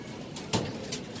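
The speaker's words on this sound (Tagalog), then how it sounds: "Naroronda na yung mga kalapatid." Pigeons flock around a coop, giving a few short, soft calls and wing flutters against a quiet background.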